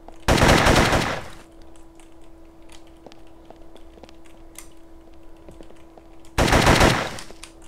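Two loud bursts of rapid automatic gunfire in the video game MTA DayZ, one at the start and one near the end, with quiet ticking and clicks in between.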